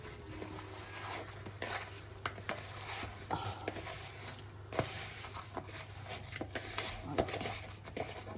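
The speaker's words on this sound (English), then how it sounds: "we just give that a really good mix with our hands" Mince being mixed by hand in a bowl, a continuous soft squelching and stirring with irregular wet slaps and occasional light clinks, close and steady under a low background hum, with no talking.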